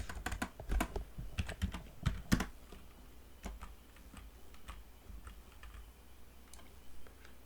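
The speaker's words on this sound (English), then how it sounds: "I'm gonna have to type in the digits because it's not a whole number" Digits being typed on a computer keyboard, a quick burst of sharp key clicks early on, then slower scattered single keystrokes over a steady low room hum.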